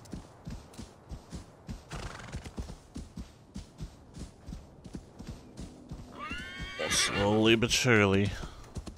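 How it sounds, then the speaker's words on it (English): Rhythmic hoofbeats of a galloping horse in Assassin's Creed Valhalla thud steadily, with someone speaking briefly over them, before a loud, close neigh and whinny rises near the end. "Come on, horse. You can do it."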